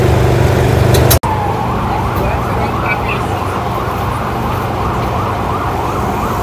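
An ambulance siren wails continuously on a New York street, its rising and falling tone steady and fairly close over traffic rumble, after a brief sharp click near the start.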